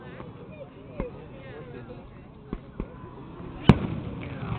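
Fourth of July fireworks in the video game Webkinz pop in a few sharp, separated bursts, the loudest near the end, over a low murmur of background noise.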